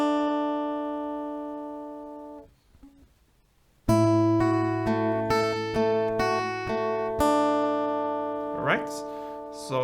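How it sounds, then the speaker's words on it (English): Acoustic guitar playing the G part of a song: a ringing chord fades out, pauses briefly, then picked notes and plucked strings sound near and clear with a rhythmic, arpeggiated feel. "So that's the G part."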